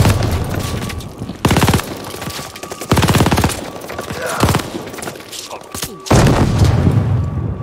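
Call of Duty Vanguard combat: a grenade blast and bursts of loud gunfire hit in repeated sharp volleys of several rapid shots, separated by brief lulls, with shouted voices in between.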